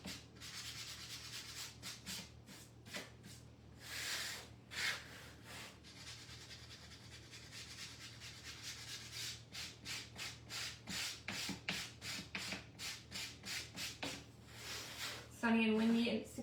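Rhythmic scraping of a sanding block rubbed back and forth over wood, close up, in repeated strokes with short pauses.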